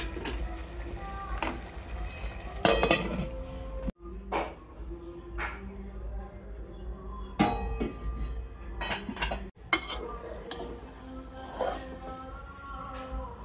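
Cooking pot stirred and covered over low heat, scattered metallic clinks, scrapes and lid clanks at irregular intervals between quiet pauses.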